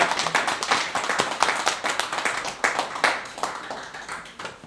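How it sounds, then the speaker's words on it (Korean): Audience applause thanking the outgoing chairman of a liberty-defense civic association at a formal gathering: dense, steady clapping from a sizable crowd throughout, fairly close, with no one talking over it. "열화 같은 감사의 박수를 보내겠습니다"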